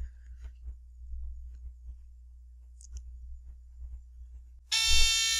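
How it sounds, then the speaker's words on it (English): A home fire alarm suddenly goes off near the end, a loud, piercing steady tone cutting in after quiet low hum and faint thumps. "Holy shit, my fucking fire alarm."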